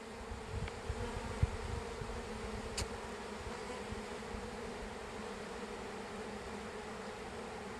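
A honeybee swarm settles in a trap, a steady, dense, low buzzing hum of many bees, close and even throughout, with a couple of brief faint clicks.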